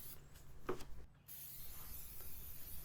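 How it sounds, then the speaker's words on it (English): A faint, steady hiss of cooking oil spray inside an offset smoker comes from close by, broken by a short pause and a few light knocks, with no voices. "start spraying the inside of the smoker"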